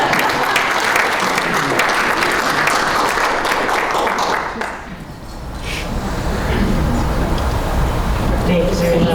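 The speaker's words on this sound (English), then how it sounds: "I would give a round of applause." Sustained round of applause from a breakfast event audience, dense and loud throughout, dipping briefly midway before swelling again into steady clapping.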